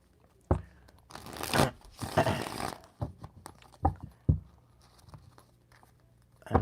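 Tarot or playing cards being shuffled close up: a long riffling, crinkly burst followed by scattered soft slaps and taps as the deck is squared and handled.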